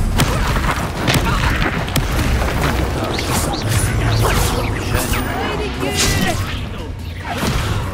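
In Hogwarts Legacy, a Confringo spell bursts into a fiery explosion amid dense combat noise, with booming impacts, whooshes and crashes piling up loudly across the stretch.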